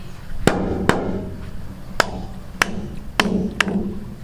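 Six sharp metallic hammer blows on a pipe of a homemade water pump, at uneven intervals, close and loud, each ringing briefly over a low steady background hum.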